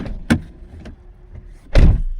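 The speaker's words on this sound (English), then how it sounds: "So if I open the door" A car door on a 2024 BMW M440i opens with a sharp latch click, a faint tap follows, then a louder heavy thunk as the door swings, close by with no talk.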